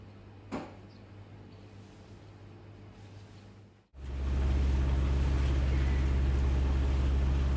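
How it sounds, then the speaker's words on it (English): Sailing yacht motoring on engine across calm Greek water, a loud steady low drone and rushing noise that begins abruptly midway and continues without a break. "the wind is often dead in the mornings, so we're motoring down to the bay"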